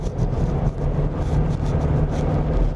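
Volkswagen T-Roc compact front-wheel-drive SUV pushed hard through a corner, giving a steady low engine drone and road roar from inside the cabin at a constant level.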